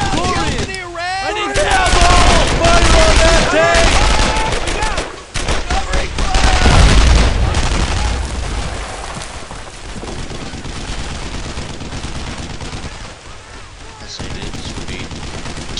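Heavy, sustained machine-gun and rifle fire in the World War II shooter Brothers in Arms: Earned in Blood, loud and dense with overlapping bursts, fading to sporadic shots as game voices shout orders.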